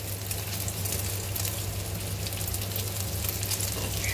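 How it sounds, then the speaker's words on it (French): Guanciale fries gently over low heat in a pan, giving a steady, soft sizzle with fine crackling throughout and no voices. "vous les retournez délicatement à feu doux et bien faire dorer"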